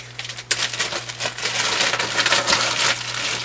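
A set of metal keys jingles and clatters as it is dropped and shuffled, a dense run of bright, close metallic clinks over a faint steady hum.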